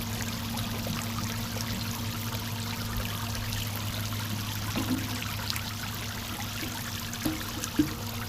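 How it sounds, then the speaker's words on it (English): A watering can skims floating debris off the surface of a garden fish pond, giving a soft continuous trickle and gurgle of water over a steady low hum, with a couple of small splashes near the end. "I have this watering can, and I'll just go to an area where I see some things floating around, and I'll just kind of surface skim"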